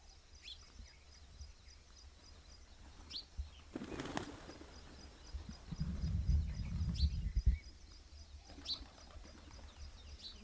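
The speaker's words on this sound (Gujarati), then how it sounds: "હવે જો કબૂતર ત્યાંથી અહીંયા બોલાવા આવી ગયા આપણને" Pigeons arrive at a village farm with a sudden burst of flapping wings, then a longer flurry of wingbeats and shuffling nearby, while faint chirps and bird calls sound in the background. No one speaks.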